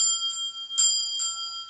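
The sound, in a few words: bell being rung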